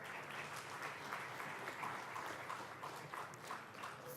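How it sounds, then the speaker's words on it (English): A summit audience gives a faint, distant round of applause for a panelist, a soft, even patter of many hands throughout. "Can we have a round of applause for Sir?"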